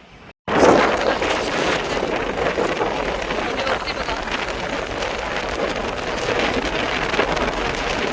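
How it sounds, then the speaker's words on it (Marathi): Dense, constant patter of night rain after a brief quiet moment at the start, with faint voices under the steady downpour. "पाऊस काय एवढा आला नाही थोडं थोडंसंच पडलं पण रात्रीचा भरपूर पडतोय बघा"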